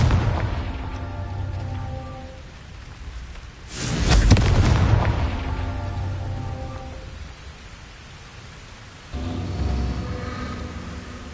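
A Confringo fire spell from Hogwarts Legacy bursts with a loud explosive boom midway, rumbling and fading over steady game music and ambience, followed later by a softer swell.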